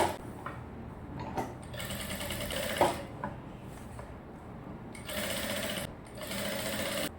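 Sewing machine stitching the neckline of a short gown, running in bursts of fast rattling stitches with pauses between, close and fairly quiet.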